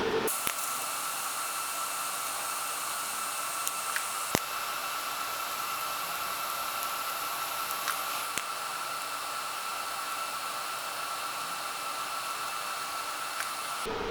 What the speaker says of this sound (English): we can actually weld it all up